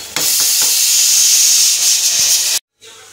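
A pressure cooker cooking rice lets off steam in a loud, steady hiss that runs close and unbroken for about two and a half seconds, then cuts off abruptly.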